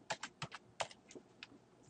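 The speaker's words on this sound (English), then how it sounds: "I'm gonna type in project" Keys on a computer keyboard are tapped while a home WiFi password is entered, giving about ten quick, crisp clicks in irregular clusters, close and fairly quiet with no voice.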